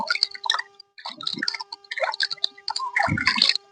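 Water splashes as a face pack is rinsed off by hand, with close, irregular patters and drips and a few heavier sloshing splashes, no voice present.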